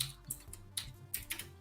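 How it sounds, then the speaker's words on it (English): Computer keyboard keys clatter in short irregular bursts of several quick taps, close and moderately loud, during a Kotlin coding session with no talk over them. "Too much typing."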